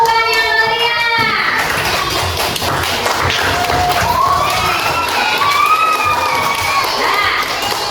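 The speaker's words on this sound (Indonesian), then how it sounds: "Tepukan yang meriah." Indoors, a group of children claps and cheers loudly and close up, with shouts and excited voices over continuous rapid clapping, while a few kids' voices rise in pitch above the noise.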